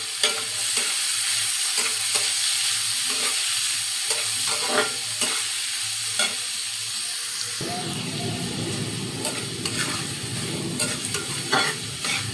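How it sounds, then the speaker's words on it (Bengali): Onions frying in oil left from frying koi fish, a steady sizzle with spoon stirring and scraping close by; partway through the frying grows fuller and louder, no voices. "পেঁয়াজ ভাজা পর্যন্ত আমরা অপেক্ষা করব"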